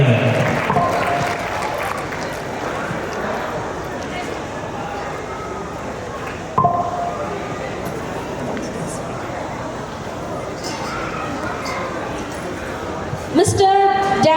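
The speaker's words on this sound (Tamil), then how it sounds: "தயவுசெய்து கொஞ்சம் கைத்தட்டுங்க." Applause from an audience at a Samathuva Pongal festival event in Auckland, a continuous wash of clapping and crowd noise that swells at moments, with voices mixed in.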